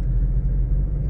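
A Toyota SW4 engine idles at about 1500 rpm, a low steady rumble heard close with no other sounds over it.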